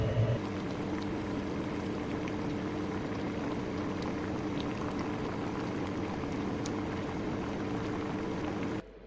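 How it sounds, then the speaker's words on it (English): A pot of water with wood ear mushrooms at a steady rolling boil, bubbling continuously at moderate volume close by, with no voices. "put them into a pot with cold water, and after the water comes to a boil, boil for 1–2 minutes."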